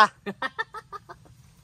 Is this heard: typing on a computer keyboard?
no